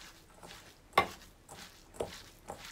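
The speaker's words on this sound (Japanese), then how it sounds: "人参と椎茸、粗くみじん切りにしたものを加えてよく混ぜていきます" Chopped carrot and shiitake mushroom being mixed with glass noodles into a spring roll filling, soft close stirring and squelching with a few sharper scrapes at regular intervals, quiet and without talk.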